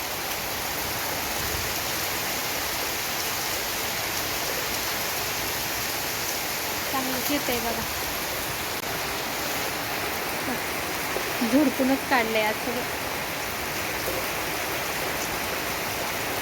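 Heavy monsoon rain pours down steadily around a rural home in a dense, even hiss, and a voice speaks briefly twice partway through.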